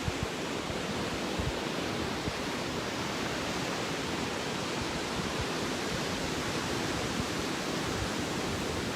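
Ocean waves breaking on a shore, a steady, loud, continuous wash of surf that fills the whole stretch without pause, with no voices over it.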